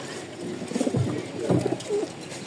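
A male red checker racing pigeon and other pigeons nearby cooing in several soft, low, throaty bursts, close and fairly quiet.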